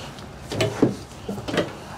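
Kitchen drawers in a 2024 Grand Design Momentum MAV 27MAV toy hauler RV are worked close by, giving a few short sliding rumbles and soft thuds.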